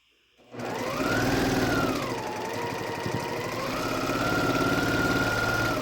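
A sewing machine stitches a quilt block in one continuous run, its motor whirring steadily after a short start and its needle chattering rapidly and evenly, loud and close.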